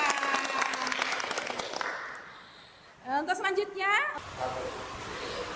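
Applause from an audience at a village family-gender simulation event rises briefly at the start, fades within a couple of seconds, and gives way to a voice speaking alone.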